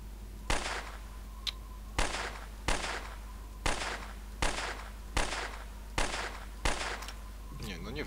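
Gunfire in S.T.A.L.K.E.R. Lost Alpha: single sharp shots ring out one after another at roughly one-second intervals, loud and close with short decaying tails, around eight in all over a low background hum.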